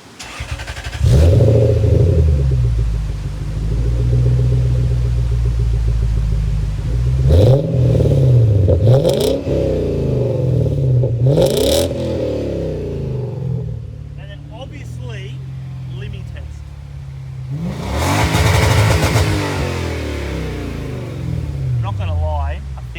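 Toyota Crown Majesta with a 1UZ V8 and 3-inch cat-back exhaust driving, engine rising and falling through several revving pulls with a deep, steady rumble, close and loud, with someone talking over parts of it.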